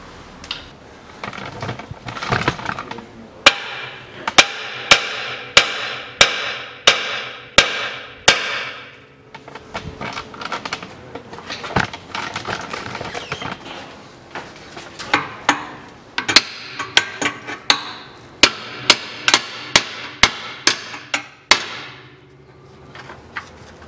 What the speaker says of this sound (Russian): Сейчас немножко молотком разогну уши, по болту побью